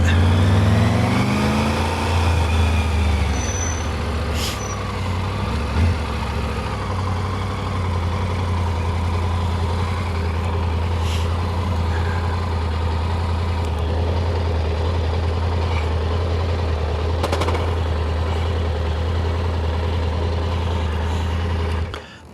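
A Triumph Tiger 900 adventure motorcycle engine runs steadily nearby, a constant low rumble sustained throughout with no talking.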